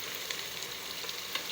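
Steady, faint sizzling of achar gosht cooking in a pressure cooker, a continuous hiss with a few soft crackles and no voices.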